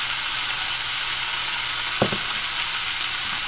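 Steak and eggs frying in a pan on a home kitchen stove give a steady, close sizzle and crackle, with a brief clatter around the midpoint and no talking.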